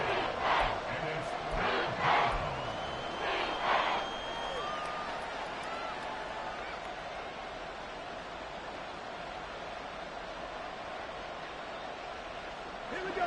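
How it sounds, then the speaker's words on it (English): A stadium crowd at an NFL football game between the Panthers and Dolphins roars steadily, a broad sustained cheer building ahead of a big third down, with a few louder shouts rising from the mass early on. "The crowd getting into it as we come up on a big 3rd down"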